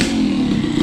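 Jetson's motorcycle engine runs loud and close with a steady droning rumble and slight rough flutter, held continuously through the short moment without voices.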